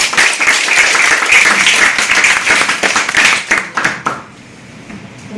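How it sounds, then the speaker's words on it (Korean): A chapel congregation on a university campus claps together, a lively close burst of applause with some individual hand claps standing out, stopping abruptly after about four seconds and leaving quiet room tone. "우리 하나님께 영광의 박수."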